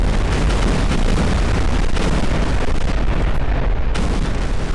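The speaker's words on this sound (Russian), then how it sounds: "Взрывы далеко будут" Booming explosions go off one after another in the Garry's Mod sandbox game, dense and rumbling with a continuous roar of blasts and debris that never lets up across the stretch.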